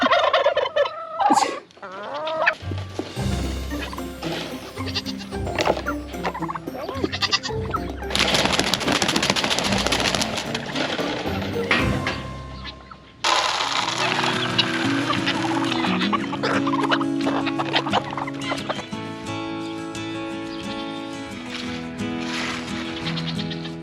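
Free-roaming turkeys gobble loudly and repeatedly at close range in a home garden, their rippling calls overlapping in bursts, with other farm animals bleating now and then.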